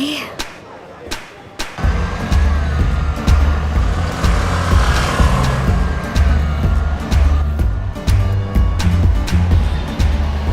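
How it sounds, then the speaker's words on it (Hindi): A scooter ridden fast gives a steady, droning engine hum that rises in after a quiet start and carries on close and loud, with voices talking over it. "अपने स्कूटर पर लिफ्ट देने के लिए शुक्रिया, लेकिन थोड़ा धीरे चलाएंगी प्लीज"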